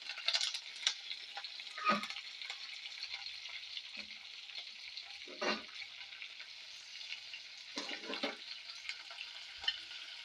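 Curry leaves and onions crackle in hot tempering oil for chukkakura (sorrel) dal, a continuous close sizzle broken by a few louder bursts as the leaves hit the oil and the pan is stirred.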